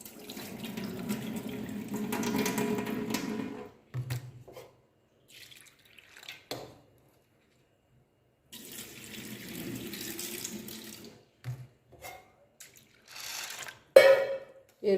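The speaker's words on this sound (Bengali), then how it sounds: "ডালটা 2-3 বার ধরে ভালো করে ধুয়ে নেব।" Lentils are washed under a running kitchen tap as a steady stream pours into a sink. Two long spells of running water are broken by a quiet stretch with small drips, splashes and handling sounds.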